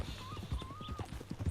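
A horse's hooves clip-clop at a walk in Red Dead Redemption 2, with a few soft, steady steps and a brief whinny-like tone laid over low ambient rumble.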